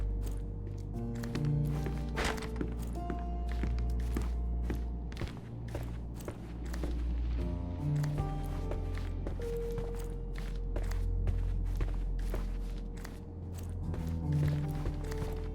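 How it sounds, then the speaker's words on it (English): Footsteps in the Sherlock Chapter One video game, a series of soft thudding steps at a walking pace that repeat across the scene with faint ambient game sound underneath. "I heard footsteps upstairs a second ago."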